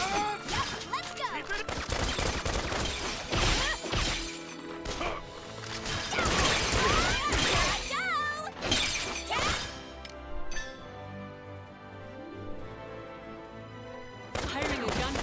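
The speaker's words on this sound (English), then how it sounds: "Firing a gun feels amazing" Gunfire in the video game Valkyria Revolution, with loud repeated bursts of shots and crashing impacts over a dense bed of music, sound effects and in-game voices, easing off briefly before a final burst.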